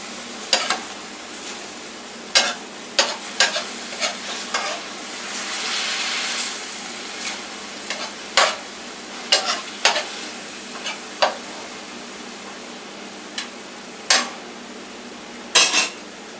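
Egg noodles, chicken and vegetables sautéing in olive oil in a pan, a soft steady sizzle broken by sharp clinks and scrapes of a utensil stirring against the pan.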